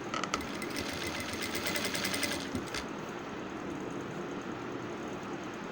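A sewing machine stitches neck piping along a curved edge, its needle chattering in a fast, steady mechanical rhythm up close, with the motor whirring on continuously.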